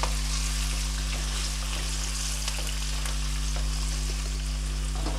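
Finely chopped green chillies frying in a pan, a continuous dense sizzle with a steady low hum underneath and no talking.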